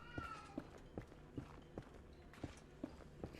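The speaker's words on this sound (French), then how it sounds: "Petit chat qui miaule" A small cat meows near the microphone during a modded Minecraft survival session, a short tonal call near the start, over a steady run of soft regular thumps like in-game footsteps.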